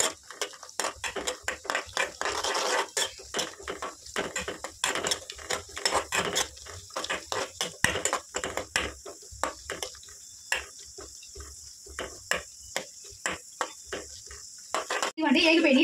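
Cashew nuts fry in a spoonful of hot ghee in a small pan for jaggery chalimidi. A steady close sizzle is broken by rapid, repeated scraping and tapping of a spoon stirring against the pan.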